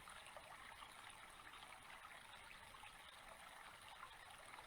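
A faint bubbling brook trickles steadily in the background, a soft continuous wash of water with no voices.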